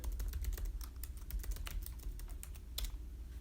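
Keys on a computer keyboard being typed in a rapid, uneven patter of close clicks as a password is entered, with a steady low hum underneath and no voices.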